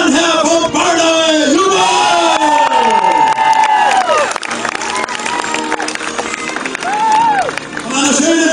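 A crowd at a medieval festival tournament at Riegersburg cheers and claps in a loud, sustained roar of many voices, with shouts and calls mixed in throughout.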